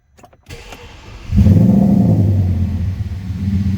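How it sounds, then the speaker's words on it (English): An Audi S6 V10 engine, from a crash-damaged car, cranks and fires up, then settles into a loud, steady idle rumble close by; a few faint clicks come before it starts. "Guys, this engine sounds good."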